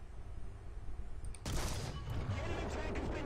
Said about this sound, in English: let's fire a stupid shot here at the turret